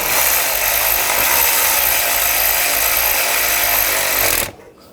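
Loud, continuous whir of a power tool driving a T30 socket to tighten a pipe on a Volkswagen Tiguan during thermostat housing work, running steadily before cutting off abruptly near the end.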